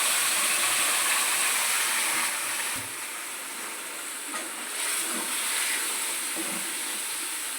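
Leafy wild greens tipped into a hot pan of spiced oil: a broad, steady sizzle and hiss throughout with faint stirring scrapes, close and fairly loud, easing slightly partway through.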